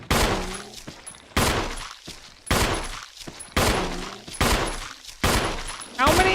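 Bursts of rapid gunfire from the Resident Evil video game, in roughly six loud volleys spaced about a second apart, with voices talking between the shots.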